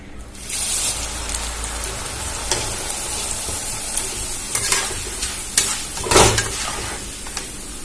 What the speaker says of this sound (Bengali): এবারে আমি চিড়াগুলো দিয়ে দেবো আমি কম কম দিয়ে ভেজে নেবো